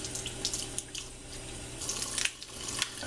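Meat is rinsed under a running kitchen tap, with a soft steady stream of water and irregular splashes and squishy handling sounds, close and fairly quiet.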